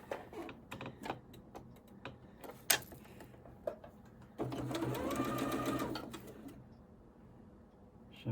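A sewing machine stitches quilt blocks in one steady, loud run of a couple of seconds, preceded by scattered light clicks and taps of handling fabric.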